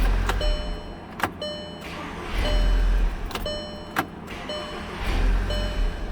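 Starter on a 2010 Volkswagen Tiguan with an intermittent no-crank fault, newly fitted, cranking the engine in several low, whirring bursts separated by sharp clicks, heard close and without talk.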